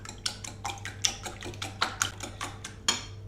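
Egg yolks and whole eggs beaten together in a bowl for a walnut, cocoa and raisin cozonac, a quick run of light rhythmic clicks and taps, about a dozen strokes close by with no talking.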